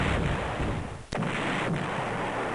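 Artillery fire in the Panzer General strategy war game, a single loud, sharp blast over a dense, constant rumble of battle noise.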